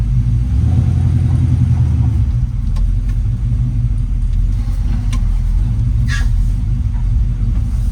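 A 1968 Chevrolet pickup with a 383 cubic-inch engine idles low and lumpy outdoors, a loud steady rumble with a slight rhythmic lope, a few faint clicks and a brief higher squeak over it, no talk.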